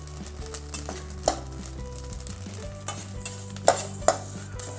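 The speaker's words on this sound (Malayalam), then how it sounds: "നമുക്ക് അരി വറുത്തെടുക്കാം." Rice being dry-roasted in a pan, with steady scraping and stirring of grains against the metal and a few sharper clinks of the spoon, close and continuous with no talking.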